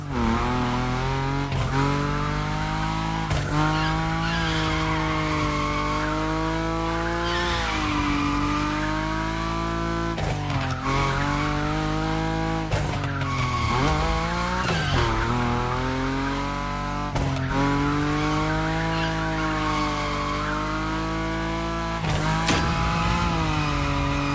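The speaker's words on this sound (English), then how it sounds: "Your Nismo is powerful enough to slide along on its own when you're at high speed" A Nissan Nismo drifts at high speed in the PS5 racing game The Crew Motorfest, its engine droning loud and steady with rising and falling revs and tire squeal running throughout, no talking.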